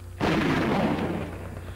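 A single pistol shot fires in the Nintendo 64 game Conker's Bad Fur Day, a sudden loud blast that decays gradually over the following second and a half, with no speech.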